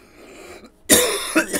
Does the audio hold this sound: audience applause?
no